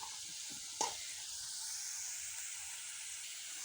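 Potatoes fry in oil until browned, making a soft, even sizzling hiss throughout with one brief clatter near the start.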